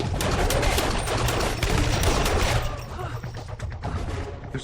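Assault rifles unleash a dense, rapid fusillade of gunfire in a TV drama firefight, loud overlapping bursts that thin slightly toward the end.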